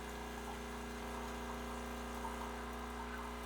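An EspressoWorks espresso machine pumps hot water into a cup, giving a steady electric pump drone with a humming buzz and watery gush throughout, close and continuous.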